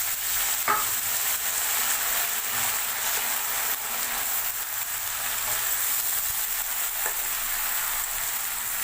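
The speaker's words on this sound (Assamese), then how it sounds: "এতিয়া দিছোঁ বেঙেনাখিনি।" Brinjal pieces fry in a pan with a steady, close sizzle and a few stirring scrapes, and no voices are heard.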